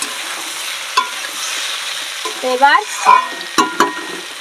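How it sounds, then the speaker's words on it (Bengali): Vegetables, potato and eggplant, sizzle softly in a pan while a spatula clacks and scrapes in a few sharp stirring strokes, and someone briefly speaks over the frying. "সবজিটা এখনো ভাজা হয়নি, আরও সুন্দর করে ভাজবো"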